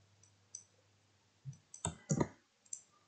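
Keyboard keys tapped while a username and password are entered into a web login form, a few scattered clicks and a short cluster of louder taps, close and quiet with no talk.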